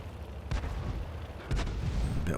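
A tank firing a shot in a video game, two heavy booming blasts about a second apart over a steady low rumble.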